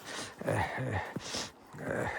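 A small dog growls and grumbles during rough play, a few low throaty bursts close by with short breaks between them.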